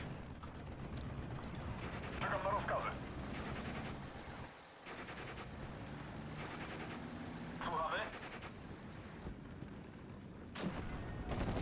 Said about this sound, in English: Those machine guns are causing issues.